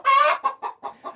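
Chickens from a live-streamed backyard flock cluck close by: one longer squawking call and then four short clucks in quick succession, with no talking.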